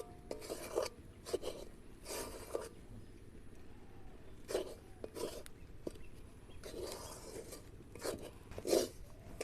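Rice flour stirred little by little into boiled sugar syrup in a pot, heard as soft, intermittent scraping and rubbing strokes, close up and fairly quiet, repeating in irregular bursts.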